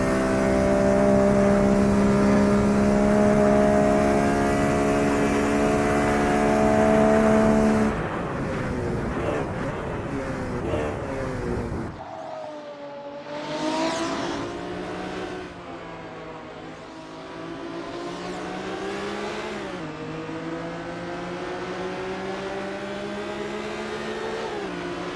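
BMW M1 Procar engine on a practice outlap at Le Mans in Assetto Corsa, loud and close, holding a steady tone, then shifting down and climbing through the revs again as the car accelerates.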